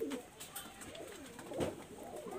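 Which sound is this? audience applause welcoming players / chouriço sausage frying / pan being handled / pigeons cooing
pigeons cooing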